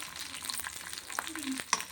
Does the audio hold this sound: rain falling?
no